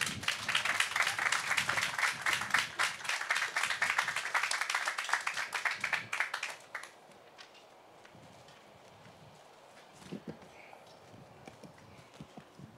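Audience at a Birmingham Land Bank groundbreaking applauding as Mayor Randall L. Woodfin is welcomed to the stage, a dense burst of clapping for about six seconds that fades to quiet room noise with a few scattered claps.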